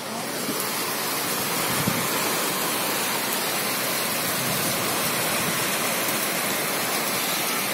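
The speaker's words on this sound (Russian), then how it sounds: "Сейчас еще сильнее начал дождь идти" Heavy rain pours at a beach on the Azov Sea, a dense, steady hiss that stays loud and unbroken from start to finish, with no voices.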